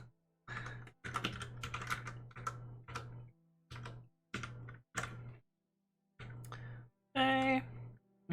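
Keys clatter in bursts of rapid computer-keyboard typing as code is entered, pausing briefly between runs, close and fairly quiet, with a short tonal blip near the end and a steady low hum underneath.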